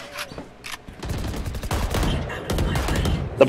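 Rapid gunfire bursts in the video game Valorant, dense overlapping shots through most of the stretch, with voices talking over the shooting.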